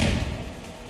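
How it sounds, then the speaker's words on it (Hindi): An IED blast destroys a house in Tral, South Kashmir, giving a deep, loud booming rumble that starts at full strength and fades away over about a second. "धमाके की ये गूंज उठी तो जम्मू कश्मीर से है"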